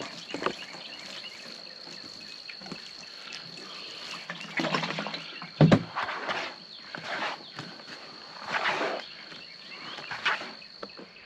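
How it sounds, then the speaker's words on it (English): Water is poured onto the soil of a potted tomato plant, giving irregular splashing and trickling bursts with a soft, close gurgle, broken by short pauses and a few handling knocks. "let me get a little bit more water on it"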